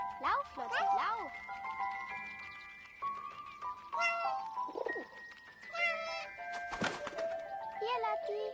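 A kitten meows repeatedly in the video game 11-11 Memories Retold, with high, bending cries over soft ambient game music and a faint jingle, while voices speak in between.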